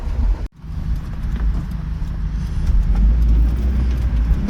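A topless Geo Tracker drives down the road, its engine a steady low rumble mixed with open-air road and wind noise, growing slightly louder after a brief dropout near the start.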